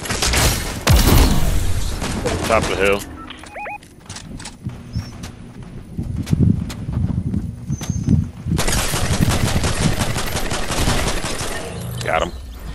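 Gunfire in a Fortnite trios match: loud bursts of rapid shots and booms at the start and again near the end, with a quieter stretch of scattered shots between, while players talk over it.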